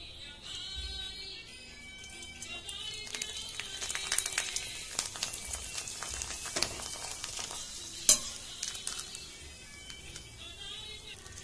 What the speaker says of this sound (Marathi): हे पापड आहे ना, मी तुम्हाला तळून दाखवते